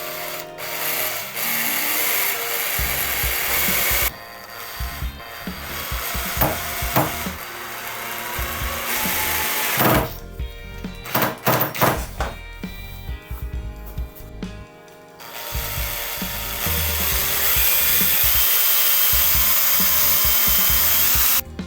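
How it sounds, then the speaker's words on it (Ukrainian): Power drill boring holes and a driver sinking screws into wood while assembling a small H0 1:87 modular model railway layout, bursts of whirring tool noise with pauses, close and fairly loud, no talking. "Для додаткової фіксації засверлюю відповідні місця та вкручую шурупи."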